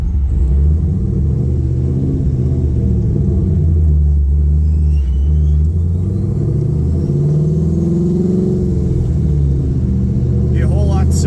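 A 1969 Camaro with an LS3 engine, fitted with C6 Corvette wheels, rolls along with a steady low engine rumble and road noise, the tires rubbing against the body as it drives, while people talk inside.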